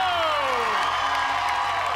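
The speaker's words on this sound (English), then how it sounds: "Let's have a big round of applause for the Liberty Trio!" An audience cheers, whoops and applauds after a patriotic colonial-themed trio performance, a loud burst of mixed crowd noise with falling whistle-like tones.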